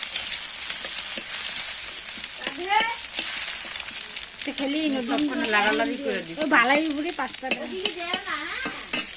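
Steady sizzling of cabbage frying in a pan with stirring scrapes, while voices talk over it partway through.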